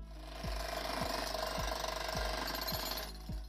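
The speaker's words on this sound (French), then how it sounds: "le marteau-piqueur est le roi" A jackhammer pounds pavement in a steady rapid hammering, loud and continuous with regular heavier thumps about every half second, dense and close with no voices.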